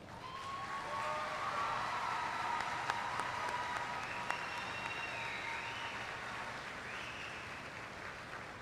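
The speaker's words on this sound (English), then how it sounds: "Let's take a moment to honor and applaud the class of 2024." A crowd at a high school commencement ceremony applauds the graduating class of 2024 with a sustained, even roar of clapping, heard from a distance in a large hall.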